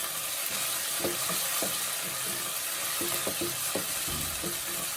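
Onions frying in a pot for jollof rice: a steady, close sizzle fills the whole stretch, broken by repeated knocks and scrapes of a spoon stirring against the pot.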